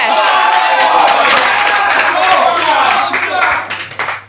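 Crowd at a live Sidemen FC event clapping and cheering for new manager Jack Joseph, a loud close burst of many hands and voices that thins out toward the end, with a voice partly over it.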